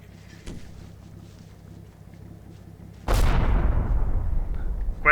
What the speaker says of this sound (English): Oh, that's a German mortar opening up.